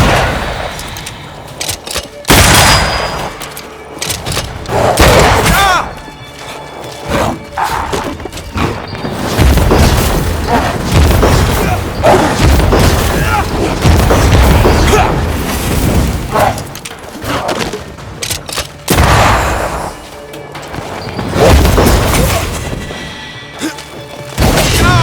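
Gunfire and heavy booms in the video game Banishers: Ghosts of New Eden come in loud, close bursts separated by short lulls, with dense blasts piling up through the middle stretch.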